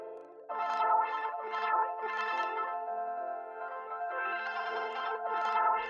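A Portal effect preset modeled after the Therme pedal in a melodic trap beat, swirling a sustained melodic tone into pulsing, wobbling bursts with a chorus-like throb, loud and alone with no talk.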